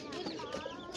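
A white pigeon cooing softly in a brief, low murmur, close by, with someone talking over it.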